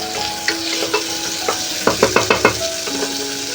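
Tomato being stirred in a frying pan over a soft sizzle, a spoon scraping and tapping the pan several times, including a quick run of five sharp knocks near the end.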